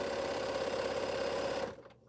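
A sewing machine stitching a quilt runs in a steady, fast mechanical hum and clatter, close and loud, then stops abruptly near the end, with no talking.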